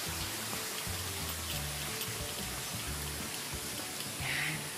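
Free-flowing mountain water running down at a Palaisdaan restaurant, a steady wash of splashing and trickling under low intermittent background thumps.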